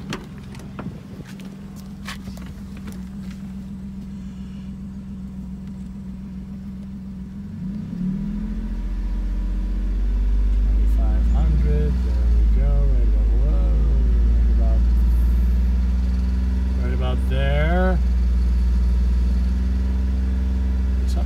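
A car engine idles, then is held at about 2500 rpm from around eight seconds, giving a loud, steady drone with a faint rattle from underneath while parked. Brief chirping sounds occur over the engine.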